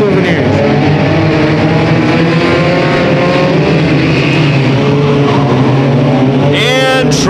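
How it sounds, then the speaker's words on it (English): Compact race cars roar around a night figure-eight track in a 20-lap race, engines droning and revving steadily throughout, with an announcer talking over the noise. "Figure eight racing, 20 laps."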